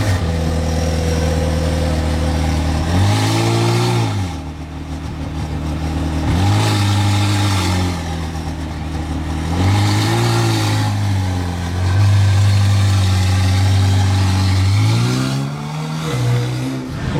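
A convoy of blue supercars, a Porsche GT4, a Lamborghini STO and a Ferrari F8, passes nearby with loud engines revving in repeated rising and falling surges, each car roaring up and easing off in turn.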